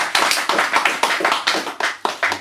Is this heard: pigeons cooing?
no